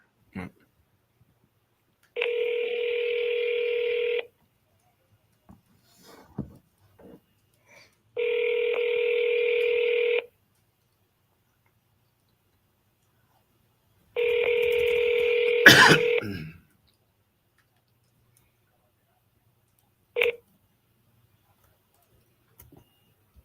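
An app-based phone call rings out with three evenly spaced long electronic ringback tones, separated by short gaps, in a quiet room with a few faint clicks and a brief clatter.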